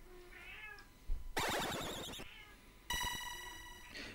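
A house cat lets out two loud, harsh meows in quick succession, each long and strained, with a fainter cry before and after, close by in a quiet home.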